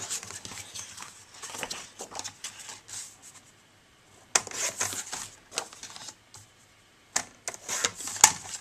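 Paper trimmer blade chopping through cardstock for Christmas cards, a series of sharp clicky cuts and slides in two bursts, close and fairly faint with no talking.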